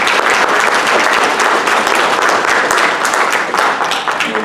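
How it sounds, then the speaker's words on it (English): Loud, sustained applause from attendees at a Democratic executive committee election meeting, with many hands clapping densely and evenly for several seconds, close and full. "Give yourselves a round of applause real quick."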